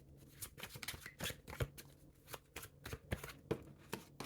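Tarot cards shuffled by hand in a run of crisp riffling bursts and flicks, with a card dropping and slapping down near the end, close and fairly quiet.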